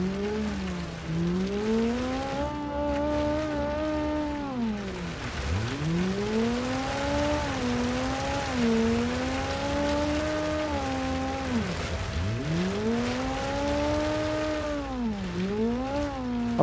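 A rally car in the BeamNG driving game revs hard and slides through corners, its engine pitch repeatedly swooping up and down through gear changes with tyre squeal, loud and continuous throughout.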